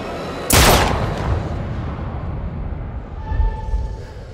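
A single loud, sharp gunshot in the video game Little Hope rings out near the start, fired at a beast, then a rumbling echo and low rattling noises trail off.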